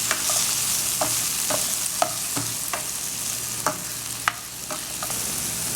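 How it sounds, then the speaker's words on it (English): Sweet peppers and carrots sizzle in a pan, with a steady frying hiss and repeated light clacks of stirring at irregular intervals, close and moderately quiet, with no talking. "In goes the sweet peppers and the carrots."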